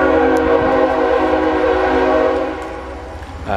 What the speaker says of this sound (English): Sounds like there's a train nearby.